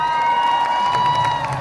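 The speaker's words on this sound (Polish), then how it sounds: "Proszę ogromne oklaski w kierunku naszego gitarzysty." A concert crowd at a show in Knurów cheers and applauds the guitarist after his solo, a brief dense wash of clapping and shouting under a faint sustained musical tone.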